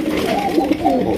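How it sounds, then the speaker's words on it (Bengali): A pair of Lahori pigeons coo close by in a short, throaty, rolling burst. "2000 টাকা আপনারা পাইতেছেন কত সুন্দর এক জোড়া লাহোরি কবুতর"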